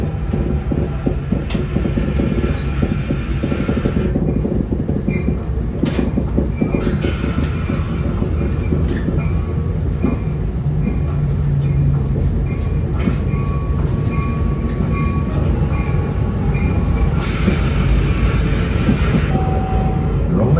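A passenger train rumbles steadily along the rails on a horseshoe curve near Parry Sound, Ontario, loud and close, with rhythmic clacking over the track and metallic squeals throughout.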